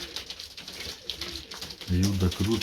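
Pigeons in a loft give low, throaty coos near the end, rising over soft background movement while someone talks.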